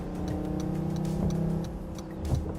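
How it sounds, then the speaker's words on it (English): A fast car gives off a fake, synthesized engine sound at startup, a steady low droning hum with a few faint ticks over it. "it makes this very fake engine sound"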